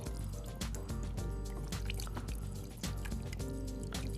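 Water splashing and dripping into a thick Bombay duck curry mixture, a wet squelchy stream with repeated soft splats, close and steady.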